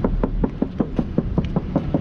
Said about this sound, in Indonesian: Dan kalian boleh ketok.